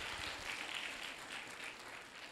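An audience in a class session applauds, a faint, steady wash of clapping from many hands that continues evenly throughout.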